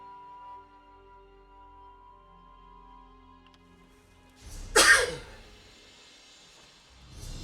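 A single loud sneeze bursts out in a quiet in-game scene from the Murkmire event in the Mages Guild questline, sharp and close, followed by a softer trailing noise.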